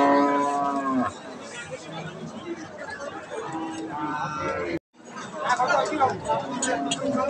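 A large pregnant Holstein Friesian cow at a busy cattle market lets out two drawn-out, resonant moos, one at the start and one midway, over a steady background of crowd chatter and people talking nearby.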